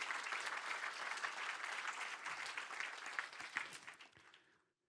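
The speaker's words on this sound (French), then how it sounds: "je voudrais vraiment qu'une fois encore, nous applaudissions Franck et puis l'ensemble des intervenants" Applause fills a conference hall for the speakers after a talk on climate risks, a dense burst of clapping that thins out and stops near the end.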